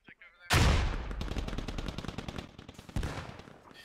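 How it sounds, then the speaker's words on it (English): Gunfire in the military shooter game Squad: a sudden loud burst opens into a sustained rapid machine-gun rattle, followed by another heavy shot near the end, with battle noise all around. "Oh, shots going in."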